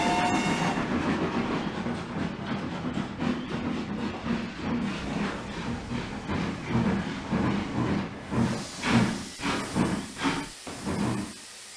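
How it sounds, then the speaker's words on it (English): A steam train hisses and rumbles with a rhythmic clatter of wheels, steam chuffs growing more pronounced and spaced toward the end as it slows. "His driver blew his whistle and stopped the train."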